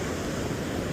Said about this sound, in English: the sound of the waves rolling in